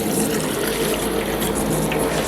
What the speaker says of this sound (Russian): Вот так будем набирать воду потихонечку.